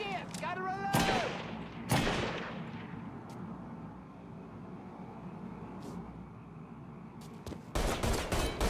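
Gunfire in the video game Mafia 3, a few sharp shots cracking out early and again near the end, with a low rumbling game soundscape between and a voice speaking over parts.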